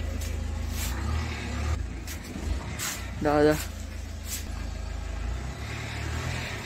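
A car pulls up, its engine a low steady rumble throughout with a brief louder rev partway through, heard close under a short spoken word and a few quiet voices.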